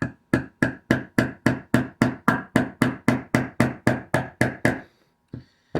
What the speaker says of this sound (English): please be careful as you hammer this in